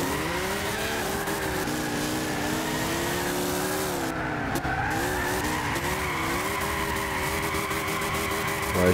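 A race car drifting in Gran Turismo 6 produces continuous loud tire squeal over a revving engine, with the pitch wavering up and down as the slide is held, with a brief break midway.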